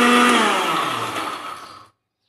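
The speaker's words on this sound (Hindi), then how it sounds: "ब्लेंडर जग में अच्छी तरह ब्लेंड कर लेंगे।" A blender jug whirring as it blends strawberries with sugar, a loud steady motor roar that slowly eases before cutting off abruptly, with no voices.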